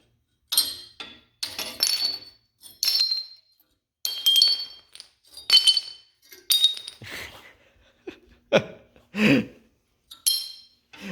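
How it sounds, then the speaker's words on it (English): A steel leaf spring from a 1929 Ford Model A hits the floor and shatters like glass, followed by a series of sharp, ringing clinks as the pieces drop and skitter, each burst separated by short silences. No one speaks. "I knocked this leaf spring off the board and it fell down flat on the ground"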